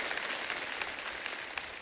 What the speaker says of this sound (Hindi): आप सबकी जोरदार तालियों से प्लीज वेलकम